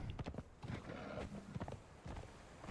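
Horse hooves clip-clopping in the Conan Exiles video game, a quick irregular run of close, soft thuds at low level with little else around.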